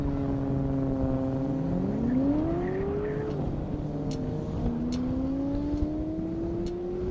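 Julian Bassler's Factory 5 GTM drag car at an airport half-mile drag race, a loud engine note that rises, dips at a shift, then climbs steadily again as the car pulls away, with no voices.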